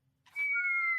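A person whistles a single sustained note, rising in and holding steady for under a second after a brief breathy onset, fairly quiet and close.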